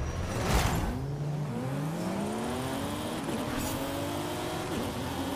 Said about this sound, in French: On laisse passer les petites voitures qui vont plus vite.